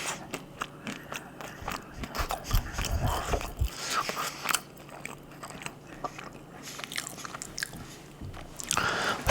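Pizza being bitten and chewed up close in a quiet setting, with repeated crisp crunching bites and wet mastication sounds scattered through, no talking.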